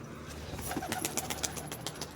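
Pigeon cooing in short soft bursts, with brief broadband flutters like wingbeats, close by against a steady low background hum.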